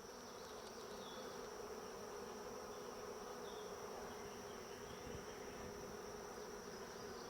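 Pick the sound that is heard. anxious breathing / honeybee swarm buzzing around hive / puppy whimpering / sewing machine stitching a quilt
honeybee swarm buzzing around hive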